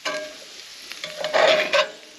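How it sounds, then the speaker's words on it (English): Potatoes, onions and garlic fry in a pan at a winter camp, a crackling sizzle with bursts of louder spitting as the food is stirred, close and alone. "I've got some sizzle in the potatoes now."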